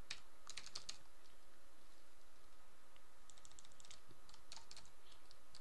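Keys clack on a computer keyboard while code is typed, coming in quick bursts of clicks with short pauses between them, near and fairly quiet, with no talking.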